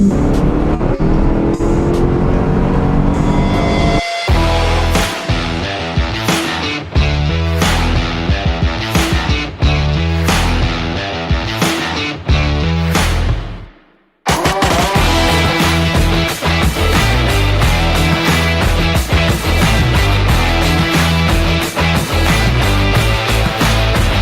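A stock Chevrolet Camaro Z28 V8 accelerates hard through the gears, loud and close from inside, with a brief drop between shifts before pulling on strongly, no talk.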